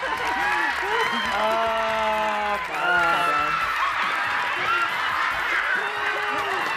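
A television studio audience claps steadily, a broad wash of applause mixed with chuckles and murmuring, while a lively melodic music sting plays loudly on top.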